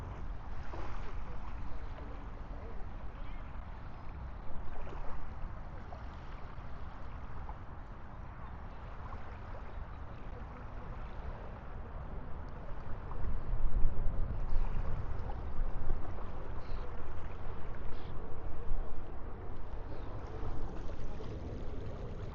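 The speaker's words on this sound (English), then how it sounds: "the waves coming in, very calm, breezy, slack tide" Calm ocean waves roll in at slack tide under a steady breeze, heard as a continuous low wash and wind rumble that swells slightly midway, with no distinct individual wave breaks standing out.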